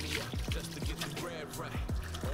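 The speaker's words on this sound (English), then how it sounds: "put our hand out just in case any excess rice falls out as you're pouring out the water" Water pours out of a pot of soaked rice being rinsed, making a short run of splashing gushes and gurgles close to the microphone.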